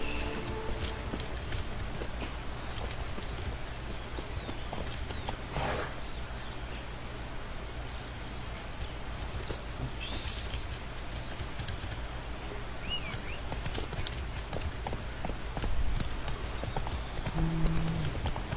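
Roach, a horse in Witcher 3: Blood and Wine, gallops with a steady, continuous clip-clop of hooves over the full stretch, close and even, set against a low ambient bed with faint bird-like chirps and no talking.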